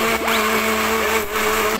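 An electric blender runs steadily throughout, a loud continuous motor whir with a constant hum and no pauses or talking.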